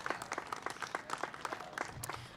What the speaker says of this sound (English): Give our small business community a round of applause.